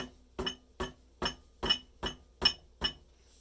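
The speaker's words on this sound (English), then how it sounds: "I was just tapping straight down" Hammer tapping straight down on the rusted trigger parts of a German G43 rifle, eight light, evenly spaced metallic clinks ringing close and alone.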